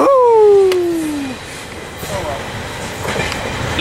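An eastbound freight train passes at Fullerton, opening with a loud descending horn or wheel squeal, then a steady rolling rumble with faint clatter as the cars go by, while people talk nearby.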